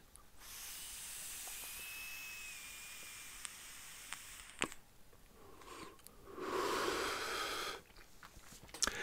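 A pod-system e-cigarette with fixed airflow is puffed, producing a soft, steady hiss of drawn air for a few seconds, then a second, louder exhale-like rush, close and quiet, with small clicks between.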